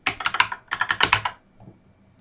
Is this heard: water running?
no